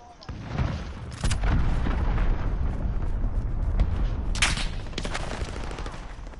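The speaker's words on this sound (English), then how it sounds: "cruise missile away" A cruise missile strike in Modern Warfare hits with a heavy booming explosion that swells after a second and rumbles on, accented by two bright sharp cracks and a second burst later.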